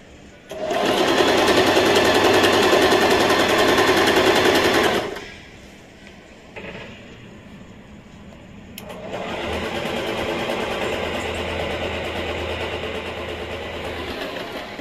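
An Usha Janome Allure Dlx sewing machine sews a straight stitch in two long, loud, steady runs of rapid whirring, separated by a short pause with faint handling noise.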